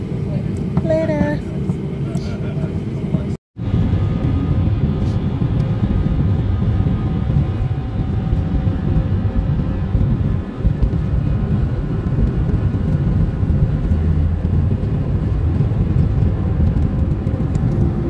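Steady broadband roar of an airplane cabin in flight on a return trip, loud and continuous with one brief dropout, and a voice heard faintly near the start.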